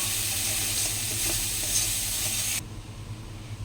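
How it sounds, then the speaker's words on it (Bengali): Onion, green chilli, ginger paste and nigella seeds sizzle steadily in a hot pan for a Bengali katla fish curry, a loud continuous frying hiss that cuts to a quieter simmer near the end. "কাঁচা লঙ্কা আদা বাটা আর কালো জিরে দিয়ে পেঁয়াজ দিয়ে একটু কষাচ্ছি দেখ"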